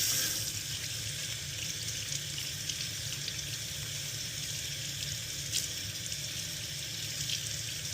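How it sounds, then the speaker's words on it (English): Cold tap water runs steadily into a kitchen sink while freshly pulled garden red onions are rinsed of dirt, a continuous close splashing hiss with no talk. "I'm going to go ahead and rinse this off a little bit with some cold water"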